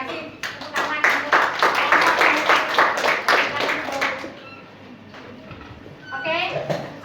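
Group clapping in a classroom session, a burst of claps for about four seconds that thins out, then faint voices and a brief second patter of claps near the end.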